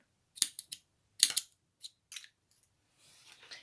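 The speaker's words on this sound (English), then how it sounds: "We're going to chain one and cut off our yarn." Scissors cutting through crochet yarn close up: several quiet, crisp snips in short bursts, with a faint rustle near the end.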